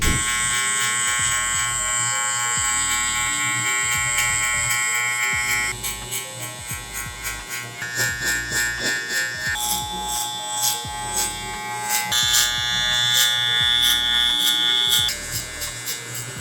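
Electric hair clippers fitted with a 3 guard cutting hair at home, a steady close buzzing motor hum whose pitch shifts as strokes pass through the hair, continuous for the whole stretch with no talking.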